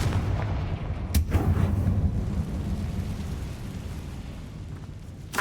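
A Confringo blasting spell from Hogwarts Legacy bursts with a sharp crack, followed by a long, loud, booming rumble that rolls on for several seconds before a second crack near the end.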